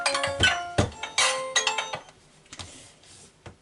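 A landline telephone rings indoors in several bright, repeated bursts, each followed by a short pause, and the ringing fades toward the end.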